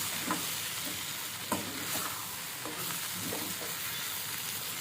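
Okra is stir-fried in a pan, Telangana style, giving a soft, steady sizzle broken by occasional spoon scrapes and taps, fairly quiet and close with no one speaking.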